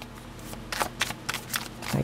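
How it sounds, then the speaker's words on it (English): Glossy tarot cards being shuffled slowly by hand, a few soft riffling bursts in an uneven rhythm, close and fairly quiet. "like with these, I gotta shuffle slow"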